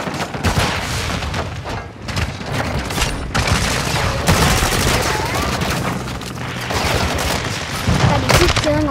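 Gunfire in a multiplayer video game, dense bursts of shots and booming blasts fired rapidly and loudly across the whole stretch, with a voice talking in between.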